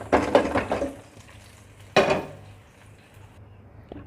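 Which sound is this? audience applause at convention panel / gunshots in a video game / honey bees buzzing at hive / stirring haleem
stirring haleem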